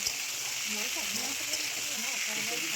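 Vegetable stalks sauté in a wok with bay leaf and panch phoron for a mixed-vegetable chachchori, giving a steady, close sizzling hiss throughout, with a faint murmur beneath.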